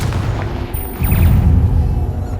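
Confringo and Bombarda spells in Hogwarts Legacy land in loud, booming magical blasts, with one burst followed by a heavier rumbling explosion about a second in.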